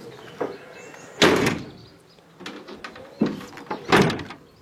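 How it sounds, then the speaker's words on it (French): The rear doors of a 2000 Renault Master T33 2.5D van, with a bent and misaligned mechanism, are shut several times, giving a series of sharp metallic slams and thunks with quieter rattles between them. "les portes à l'arrière ferment bien, verrouillent bien"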